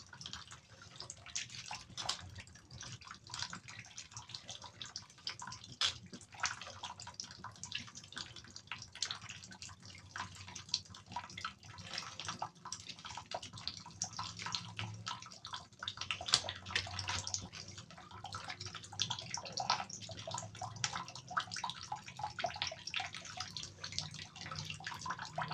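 Grated papaya for achara being washed in a basin of water, with steady splashing, sloshing and dripping running continuously for nearly half a minute, close and moderately loud, without talk.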